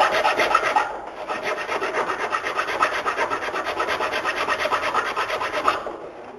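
Steady rasping of a hand file on a wooden longbow, cutting nocks, rapid back-and-forth strokes close up, with a brief pause near the start.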